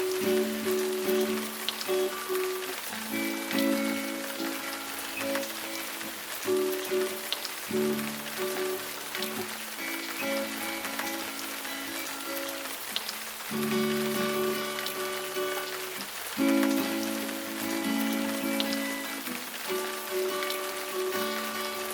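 Music imitating fast rain like a big rainstorm, a dense patter of rapid tapping under sustained tonal chords that start and stop in phrases, steady and moderately loud with no voices.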